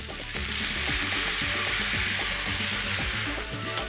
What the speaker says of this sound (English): Give the rice a stir and let it cook.